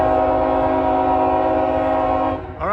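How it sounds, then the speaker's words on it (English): Horn of a train blaring loud and sustained as an empty coal train passes, with the steady blast close by and the pitch dropping as it ends. "got an empty coal train coming up"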